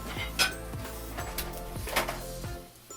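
A pan rattles and clinks on a stovetop while scrambled eggs are flipped, a series of sharp metallic knocks and clatters spaced roughly every half second, close and fairly loud.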